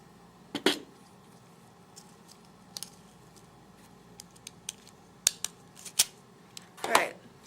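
Scissors snip beading wire in a few sharp, brief cuts with small clicks between them, close and quiet against a faint background, with no talk.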